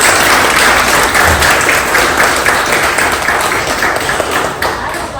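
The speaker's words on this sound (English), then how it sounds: "Applause for that." Audience applause at an awards ceremony at the Westin Nanea, dense and loud, continuing steadily for about five seconds and easing slightly near the end.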